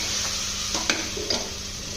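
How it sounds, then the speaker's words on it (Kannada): Fenugreek leaves frying in oil for methi biryani, a soft steady sizzle with two or three short stirring scrapes. "ಮೆಂತ್ಯ ಸೊಪ್ಪು ಕ್ಲೀನಾಗಿ ಫ್ರೈ ಆಗಿದೆ ಫ್ರೆಂಡ್ಸ್ ಎಣ್ಣೆಯಲ್ಲಿ"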